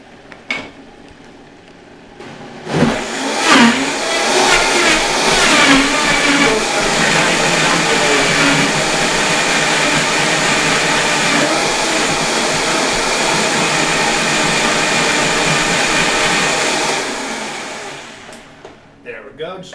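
A blender whirs up a grape leaf smoothie with a steady, loud, close roar that holds for about fifteen seconds after a few clunks, then cuts off.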